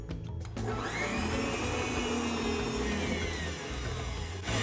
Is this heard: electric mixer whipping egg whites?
yes